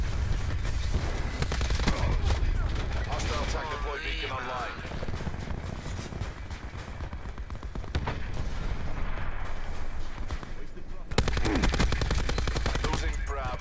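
Rapid gunfire and explosive bursts in a Black Ops 4 match on Nuketown, including a grenade launcher fired out of a window, forming a dense, continuous barrage of loud shots and booms throughout.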